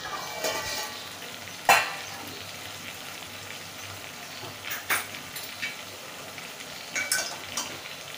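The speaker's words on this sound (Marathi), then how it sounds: "परतवून घेऊया." Malvani chicken curry cooks in a pan over medium gas. A soft sizzle runs under sharp spatula scrapes and clinks against the pan, coming several times at irregular moments.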